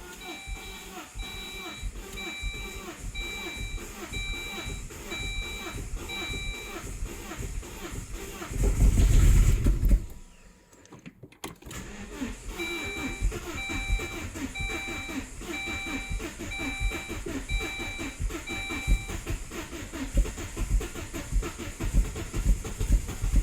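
A Saab 9-3 Aero with an intermittent low-compression fault being cranked by its starter, a long rhythmic churning in two bursts separated by a brief pause, with a repeating beeping chime over it, loud and close.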